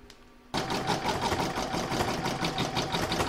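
After a brief quiet start, an embroidery machine quilting a bauble design starts abruptly and runs with a steady, fast needle rhythm and a mechanical whir, loud and close, with no talking.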